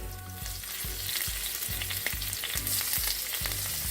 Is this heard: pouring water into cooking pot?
no